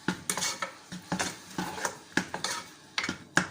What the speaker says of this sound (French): on mélange tout simplement